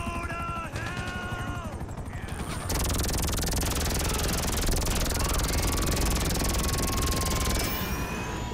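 A helicopter in the video game GTA V: rotor chatter and turbine whine start as a loud, steady drone that continues to the end, after a short stretch of other game sounds.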